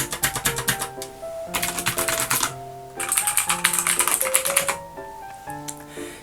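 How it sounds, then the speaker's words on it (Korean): Rapid clicky blue-switch mechanical keyboard typing in quick bursts, crisp and close, with short pauses between flurries and a soft tonal background underneath. "딸깍딸깍 거리는 소리로 키의 구분감이 확실하기 때문에 타이핑하는 재미도 있고 듣는 재미도 있습니다"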